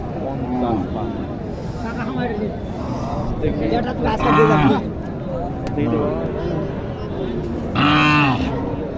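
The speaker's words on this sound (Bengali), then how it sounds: "চাচা গরুটা নিয়ে আসছে ওনার গরুটা দেখানোর জন্য দেখি" Native cattle low repeatedly at a busy cow market in Naogaon, several moos rising over a dense crowd of voices and traders talking nearby.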